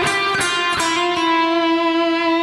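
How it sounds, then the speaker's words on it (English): A guitar plays a short melody line in a clear, ringing tone, with a few picked notes at the start and the last notes slurred by a hammer-on and pull-off into a long sustained note, alone with no talk. "at the end we're going to do a hammer-on and a pull-off."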